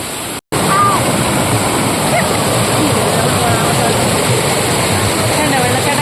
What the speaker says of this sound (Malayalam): വെള്ളച്ചാട്ടം കണ്ടോ. അതിമനോഹരമായ വെള്ളച്ചാട്ടം.